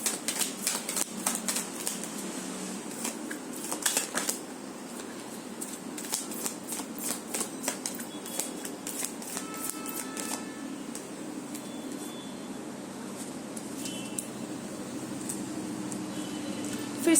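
Tarot cards being shuffled by hand, a steady papery riffling and flicking that runs continuously at close range with no talking over it.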